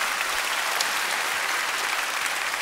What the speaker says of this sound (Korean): 우리 선교대원들에게 한 번 더 격려의 박수 하도록 하겠습니다.